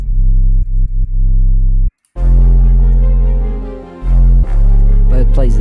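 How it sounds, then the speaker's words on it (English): An 808 sub bass from a toolkit booms as a deep sustained tone under a hip-hop beat, with a short dropout near the two-second mark before it returns loud and steady. "I used a sub from my toolkit 808. It sounds like this."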